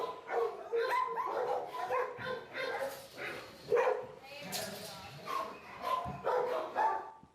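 A shelter dog barks repeatedly while bouncing off walls, a run of sharp, irregular barks and yips with thumps, heard under a person talking throughout.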